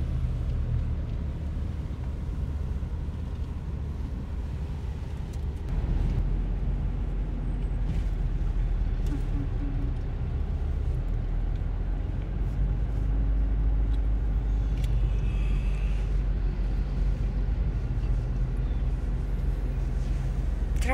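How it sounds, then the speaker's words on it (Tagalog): Road traffic heading to Baguio City, a steady low rumble of vehicle engines and tyres heard from inside or beside a slow-moving line of cars, continuous and moderately loud with no talking. "Traffic talaga papuntang Baguio."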